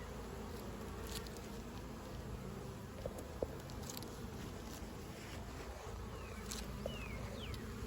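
Honey bees buzz in a dense, steady drone at an open backyard hive, close and continuous, with a few individual bees whizzing past the microphone.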